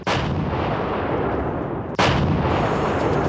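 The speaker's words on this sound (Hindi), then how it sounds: "21 पाकिस्तानी तोपें इस मौके को सलामी देने के लिए गरज उठी।" A ceremonial 21-gun artillery salute by Pakistani cannons in Lahore: two loud, sustained booming blasts, about two seconds apart, each with a heavy rumbling roll that fills the whole clip.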